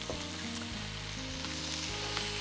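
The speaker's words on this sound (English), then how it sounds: "You'll just want to stir it up and saute it for about 3 to 5 minutes." Onions and garlic sauté in a pan for pasta sauce, giving a continuous close sizzle with a bright frying hiss, while a steady low tonal hum runs underneath.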